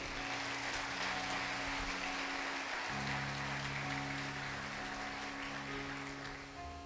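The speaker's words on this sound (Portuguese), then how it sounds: "Aplauda o Senhor Jesus por isso" Soft, continuous clapping from a church congregation fills the space, with sustained organ-like tones humming underneath.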